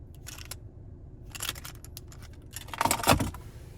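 Key fob for a 2024 Lincoln Nautilus Black Label jangling in short bursts, a few bright metallic rattles close up with quiet gaps between, no talk.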